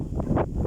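Strong wind gusts sweep across an open field in August, buffeting the microphone in rough, rumbling surges that swell and drop several times in under a second; no speech is heard.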